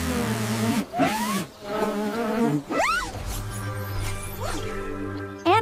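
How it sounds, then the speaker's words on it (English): Steady insect buzzing, like bees, droning throughout with musical tones and swooping sounds layered over it. "Oh no! A high concentration of bees!"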